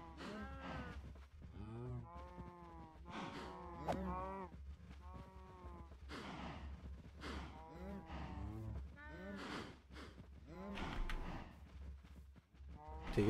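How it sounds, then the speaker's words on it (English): A small herd of cows in a video game lowing repeatedly, overlapping moos and calf-like bleats one after another over a low steady background hum. "No, you stupid baby fucking cows."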